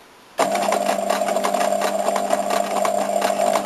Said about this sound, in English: And now we sew along the edge of the paopu.